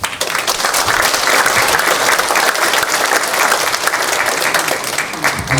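Steady, loud applause from an audience at a Presbyterian general assembly candidates' policy debate held in a church, continuous clapping filling the hall with no break for its whole length.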